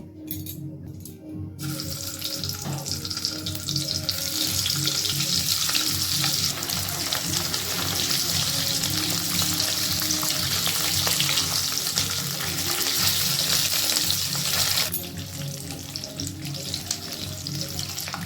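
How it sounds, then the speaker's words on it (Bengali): Duck eggs fry in hot mustard oil in a wok, with a loud, steady crackling sizzle that runs close and unbroken for the whole stretch and eases slightly near the end. "তেল গরম হওয়ার পর ডিমগুলোকে ভেজে নেবো"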